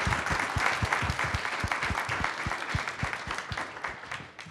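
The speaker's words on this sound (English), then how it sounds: "Can we please give a round of applause to Wade Henderson and Richard Cohen" An audience applauds panelists after a conversation on civil rights and religious exemptions, dense, steady clapping from a large room that tapers off slightly toward the end.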